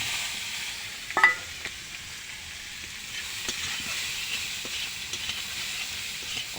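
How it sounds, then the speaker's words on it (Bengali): Raw jackfruit frying in hot oil gives a steady soft sizzle and hiss, with a sharp clatter near the start and faint scrapes and taps further in. "আর এখন আমি ইঁচড়টা ভেজে নেব। তেল দিয়েছি।"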